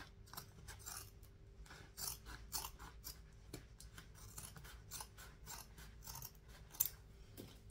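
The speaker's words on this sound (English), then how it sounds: "Again, trim off the excess." Scissors trim excess fabric while a beach bag is being sewn, giving a steady run of quick, close snipping cuts over a low background hum, with no one talking.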